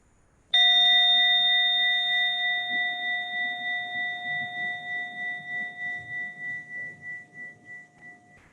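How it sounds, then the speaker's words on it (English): A mindfulness bell is struck once and rings out clearly in a quiet room. The pure, sustained tone slowly decays with a gentle pulsing shimmer over about eight seconds. "the sound of this bell"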